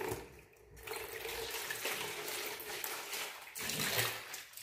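Water runs steadily from a tap, near and fairly loud, in a continuous broadband rush with slight surges, during preparation of water for cleaning a chicken.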